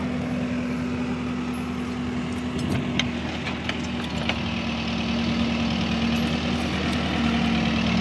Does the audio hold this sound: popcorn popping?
no